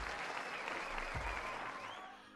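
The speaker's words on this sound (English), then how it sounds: "Give her a round of applause for that." An audience applauds after a talk about spiritual and mental health, a dense steady wash of clapping throughout that eases slightly toward the end.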